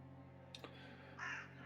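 Crows caw at a fence at evening as a tabletop game sound effect. A couple of short, faint calls are heard over a low steady background hum.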